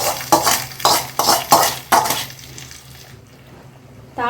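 Dried red chillies and curry leaves being stirred in a coconut oil tempering with mustard seeds, heard as five quick rhythmic scraping, clattering strokes of a spoon in the pan, then a quieter low sizzle fading, with no talk.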